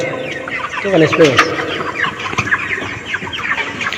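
Several chickens cluck and squawk close by in quick, irregular bursts inside a quiet poultry shed with fans, with a person talking softly underneath.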